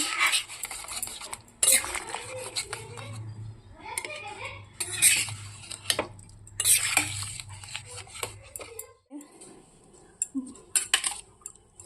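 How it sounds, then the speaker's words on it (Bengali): Dishes and utensils being scrubbed and washed in a home kitchen, with irregular clattering bursts of metal and crockery knocking together and running water, close by and fairly loud, with faint speech in the background. "বাসন টাসনও মাজা হয়ে গেছে মোটামুটি কয়েকটা বাকি"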